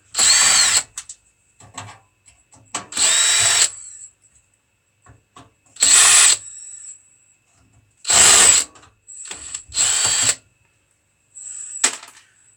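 Short bursts from a power screwdriver backing screws out of a Yamaha CD drive, about six separate whirring runs with quiet gaps between them, each a second or less, close up with no talk.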